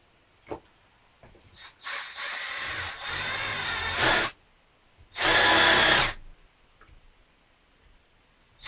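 Power drill driving a screw into pallet wood for a shelf, heard as a few short loud whirring bursts of varying length with quiet gaps between them, no voices.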